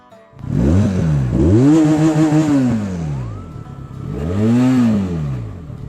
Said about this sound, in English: Exhaust sound of Benelli Leoncino 500.